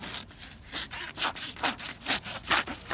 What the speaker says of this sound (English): I'm kind of sawing the paper.